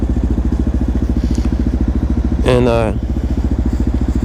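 A motorcycle engine, hotwired on a New York City street, idles with a steady rapid thumping pulse close by, while a person speaks briefly over it.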